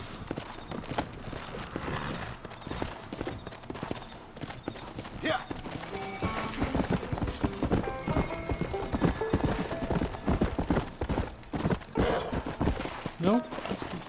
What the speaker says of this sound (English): O cavalo é esse aqui.